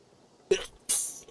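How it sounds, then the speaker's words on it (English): A short two-part sneeze, a quick intake burst followed by a louder breathy expulsion, close to the mic with no talk over it. "Gotta sneeze."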